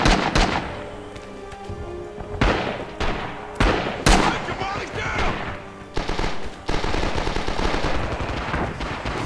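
Rapid bursts of gunfire and machine-gun fire in the online war shooter Rising Storm, loud and near, with repeated volleys and single sharp shots over a busy battlefield din.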